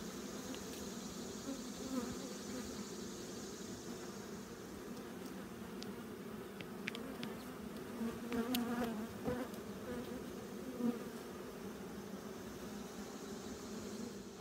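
Honey bees at a top bar hive fill the air with a soft, steady buzz, close and continuous, with individual bees droning past now and then and no talk.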